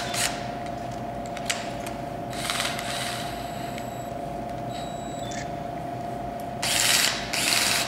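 A Holmatro battery-operated rescue cutting tool runs with a constant mechanical drone, broken by short whining motor bursts and ratcheting sounds, and ends with louder grinding surges.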